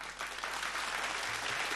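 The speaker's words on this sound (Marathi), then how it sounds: "जोरदार टाळ्या होऊन जाऊ द्यात" An audience claps loudly to welcome a group at a Mangalagaur women's festival gathering in Ratnagiri, dense steady applause throughout with no talk.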